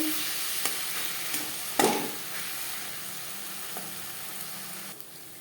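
Bhola bhetki fish with spices and fish oil sizzles in a pan as it is stirred, with a steady frying hiss broken by a few scraping knocks of the spoon.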